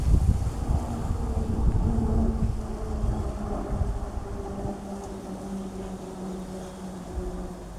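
Gusty wind ahead of an approaching storm rushes across the microphone as a heavy low roar, strongest at first and slowly easing, with a faint steady hum beneath it.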